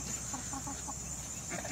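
Chickens cluck softly in short, scattered bursts against a steady background hiss.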